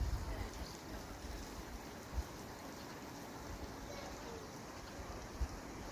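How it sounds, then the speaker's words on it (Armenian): A river rushing through a deep gorge, heard from far above as a faint, steady broadband wash mixed with wind buffeting the microphone. "Գետի ձայնը մինչև էստեղ գալիս է։"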